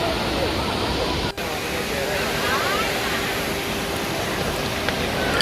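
The Siruvani waterfall at Kovai Kutralam roars as a loud, unbroken broadband rush of falling water, steady and close throughout.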